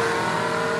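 An ultralight aircraft engine drones steadily at a high, buzzing pitch as it throttles up, with no voices.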